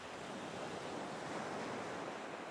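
Ocean waves make a steady, broad wash of surf that stays even and unbroken, soft and enveloping with no voices.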